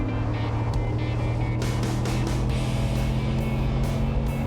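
A Ford Raptor truck with a 6.2 V8 roars steadily under acceleration, a heavy continuous drone heard close from the cabin with a few brief clicks over it.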